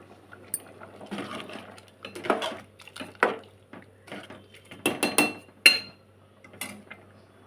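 Goat tripe tomato curry stirred in a pot, with a series of irregular close clinks and scrapes of a utensil against metal and soft wet sounds between them.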